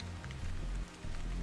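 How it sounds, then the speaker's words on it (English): Rain patters steadily across the ground in the Stellar Blade video game, a dense, close hiss that swells and eases in short waves, with no talk over it. "This must be Earth's rain."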